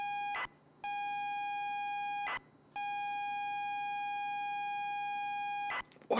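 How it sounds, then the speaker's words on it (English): A warning beep in the Stories Untold video game: a loud, steady electronic tone sounding continuously, broken by two short gaps and cut off near the end. "is that beep worse this time?"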